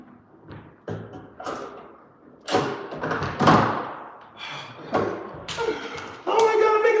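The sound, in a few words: door being fitted into frame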